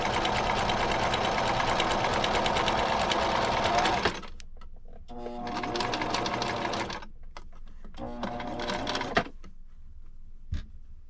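A sewing machine stitches old T-shirt fabric into cleaning cloths, a long loud run of steady motor whir followed by shorter, quieter bursts of stitching with pauses and a few small clicks.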